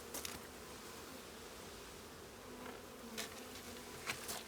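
Bees buzz at a hive in a steady, close, low drone that holds throughout, with soft rustling and brief louder passes as individual bees move near.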